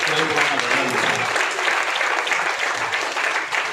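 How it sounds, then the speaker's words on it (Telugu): An audience at a book launch gives loud, sustained applause, a dense, steady clapping that fills the whole stretch. "ఒకసారి గట్టిగా చప్పట్లతో మీరంతా కూడా"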